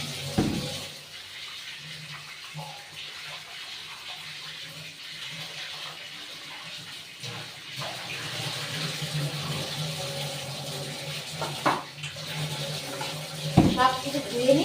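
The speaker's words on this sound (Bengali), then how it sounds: "সব কিছু ধুয়ে নিই, তারপর তোমাদের দেখাচ্ছি।" Water runs steadily from a kitchen tap as things are rinsed during home cooking, a continuous splashing hiss with a few clinks and knocks, with speech heard briefly.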